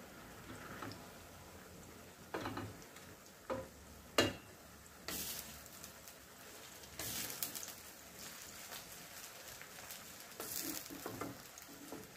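Onions fry in a pan for chicken do pyaaza with a soft, steady crackle, broken by a few louder bursts of sizzling and stirring.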